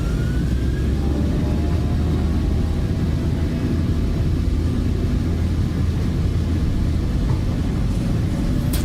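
Jet aircraft engines spooling up to takeoff thrust on a westbound transatlantic departure, a loud steady low roar and rumble filling the whole stretch, with faint rising whines above it.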